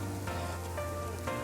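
Soft steady rain falling on a misty day in Puer, Yunnan, a faint even patter throughout with a low background hum and no voices.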